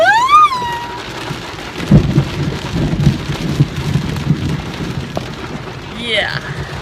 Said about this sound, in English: That was just the brightest bolt of lightning and clap of thunder.